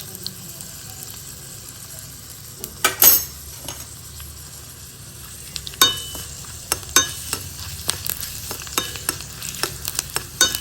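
A tempering of mustard seeds, asafoetida, chilli and curry leaves sizzles in hot oil for a tomato dish, with sharp crackles and spitting pops that burst out near the start and keep coming irregularly, close and clear.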